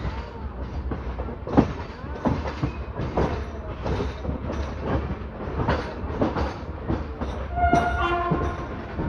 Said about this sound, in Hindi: और ये रही दिल्ली की डायमंड क्रॉसिंग